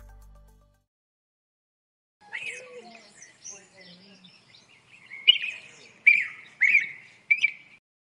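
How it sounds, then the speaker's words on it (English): AI-generated audio mixes bird chirps and tweets with faint rustling and soft murmuring voices, starting near-silent, then building to sharp, bright chirps in quick bursts toward the end. "Fugatto was asked to create an audio that combines three different sounds: camera rustling, birds chirping, and women speaking."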